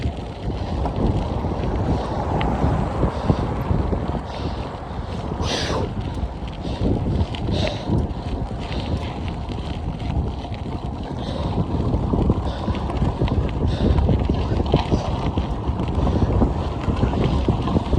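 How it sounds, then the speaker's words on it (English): Strong wind buffets a microphone on a long bike ride, a loud, continuous rumbling roar with gusty surges throughout and no clear voice. "Oh, and that wind is so strong."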